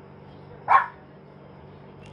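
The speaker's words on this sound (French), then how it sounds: "Et là, je me fais aboyer dessus par un chihuahua." A chihuahua gives a single sharp bark near a passerby on a warm outdoor street, loud and brief against quiet background hum.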